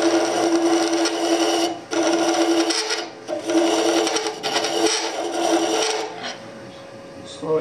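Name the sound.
burr scraper cutting wood on a lathe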